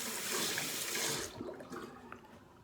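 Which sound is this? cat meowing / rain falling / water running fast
water running fast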